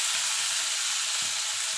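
Chopped tomato sizzles and fries in a pan over low heat while moong dal is being cooked, giving a steady, close hiss with faint stirring scrapes and no voices.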